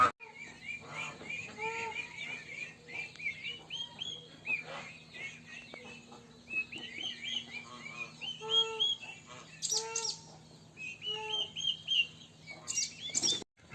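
Farm poultry, ducks and other fowl, squawk and cry repeatedly in a noisy outdoor yard, with overlapping calls and sharp shrieks arriving in irregular bursts at moderate distance, over a faint steady hum.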